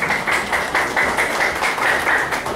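Steady applause from an audience at a municipal ceremony honoring public cleaning staff, a continuous wash of clapping with a slight pulsing rhythm, fairly loud and close.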